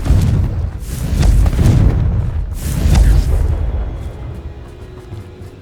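A Confringo explosive curse from a Harry Potter video game goes off in a run of loud, booming blasts. Several heavy bursts roll past in close succession, each with a deep rumble that fades into a dull tail.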